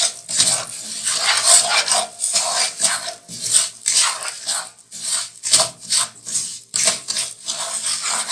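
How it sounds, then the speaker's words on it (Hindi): A spoon stirs sugar into roasted semolina for carrot halwa, making continuous close scraping and rubbing strokes that repeat in a steady rhythm against the pan. "चम्मच चलाते रहना है"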